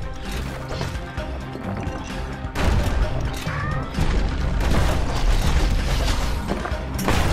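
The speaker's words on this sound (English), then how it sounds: "Shotgun does a ton of damage up close, but as you can see it shoots in a wide cone" Dense, loud game action from Bastion, with repeated booming shotgun blasts fired up close in a wide cone, layered over constant music and effects and a sharp crash partway through.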